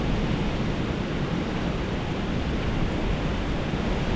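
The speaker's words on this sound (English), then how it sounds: "You gotta know it's windy when branches start snapping off the trees." Strong Chinook wind gusting near Trout Creek, a steady loud broadband roar with no pauses, close and continuous throughout, no voices present.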